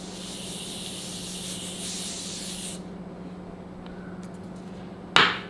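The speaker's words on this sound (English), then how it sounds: "Now to press everything in, seal it in together, I'm using this Daily Forever 52 Makeup Fixing Spray." Daily Forever 52 makeup fixing spray sends out a steady, close hiss of fine mist for a few seconds, then stops. After a quiet gap there is one short, sharp sputtering burst.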